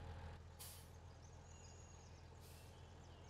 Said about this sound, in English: parking brake.